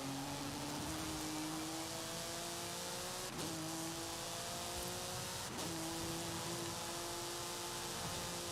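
A race car in Forza Horizon 5 holds a steady, droning engine note, with brief shifts in pitch at gear changes. It plays alone and sounds close.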